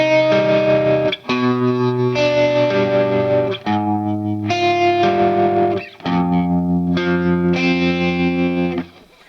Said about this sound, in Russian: Что у нас играет вторая гитара, та самая, которая с дисторшеном и немножечко с тремоло.